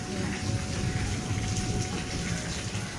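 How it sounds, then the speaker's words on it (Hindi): Steady rain falling with a constant wash of noise, a faint hum in the background and no clear voices. "क्या ही मस्त बारिश हो रही है।"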